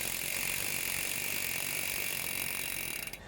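A mountain bike's freehub ratchet clicks continuously as the chain is back-pedaled, giving a fast, steady, close buzz of pawl ticks that slows and fades in the final moment.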